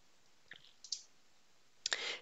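A few soft, sparse clicks of typing on a computer keyboard, faint and isolated in a quiet room, with a short cluster of keystrokes near the end.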